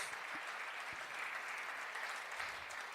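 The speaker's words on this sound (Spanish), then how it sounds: "Fuertes aplausos al Señor" A congregation gives loud, sustained applause to the Lord during a Spanish-language church service. The clapping is continuous and even from start to finish, without talk over it.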